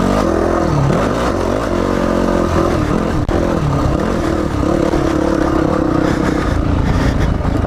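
A 2005 Yamaha WR450 dirt bike on a trail accelerates hard, its loud close engine revving up and dropping briefly as it shifts into third gear, then pulling on steadily.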